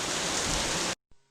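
Heavy rain pouring down in a sudden storm, a dense, loud, steady hiss that cuts off abruptly after about a second.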